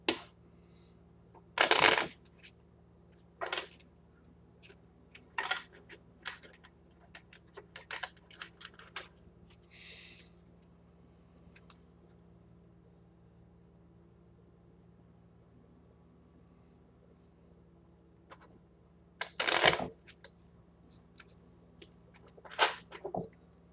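Tarot cards being shuffled in short riffling bursts, a few loud rapid riffles separated by quiet pauses and small taps, close up.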